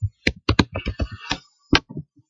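Keys on a computer keyboard click in a quick irregular run of about a dozen taps as entries are typed into a spreadsheet, close and crisp with short gaps.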